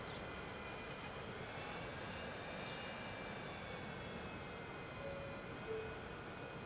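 Passenger plane engine in the Transport Fever 2 video game, a faint, steady jet drone with a smooth whine running unbroken and alone throughout.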